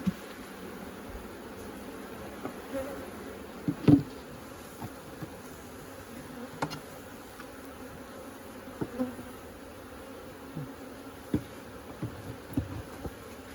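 Honey bees buzz steadily around an open hive, a soft continuous drone broken by occasional closer passes and light rustling, with no voices.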